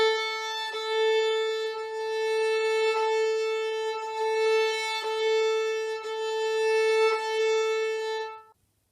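Violin bowed with medium pressure and faster bow speed, giving a clear, steady sustained note with even tone and faint bumps at the bow changes, lasting several seconds alone before stopping.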